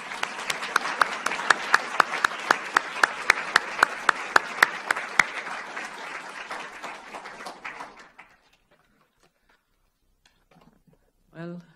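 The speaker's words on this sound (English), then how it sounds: "I ask you to welcome her with a 4-fold applause for being here as the Bernstein Lecture this year." A dense round of audience applause welcoming a lecturer at a university lecture, loud and rhythmic with sharp clap peaks, fading out after about eight seconds to near silence before a brief sound at the end.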